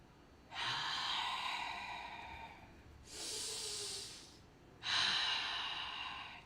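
Slow, deep breathing during a chakra meditation, with three long airy breaths separated by brief pauses, close and fairly loud, and no talking.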